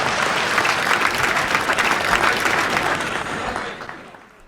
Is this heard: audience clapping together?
yes